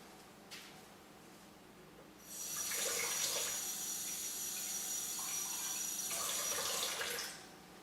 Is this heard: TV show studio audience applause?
no